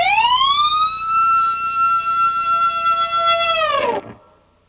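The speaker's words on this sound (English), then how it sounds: "would be that G harmonic bend," A high, distorted electric guitar G harmonic bent upward and held with wavering vibrato for several seconds, siren-like, then dipped and cut off sharply, loud and alone.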